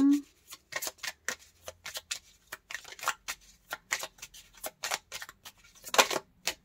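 Tarot cards snapping and shuffling in steady, crisp bursts close by, a quick run of dry flicks and slaps continuing throughout with a short tonal blip at the start.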